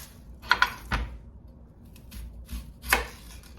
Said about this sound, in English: Is going to be the cutting up the onion.